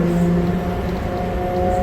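A steady low rumble and hum fills the space inside a moving train, with a constant mechanical drone and no voices.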